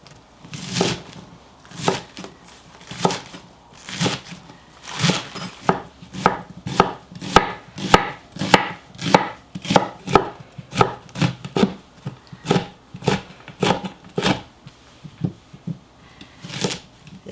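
A knife chops green onion heads in half on a cutting board while making water kimchi, producing sharp, irregular thuds in quick bursts, close and clear, with no talking.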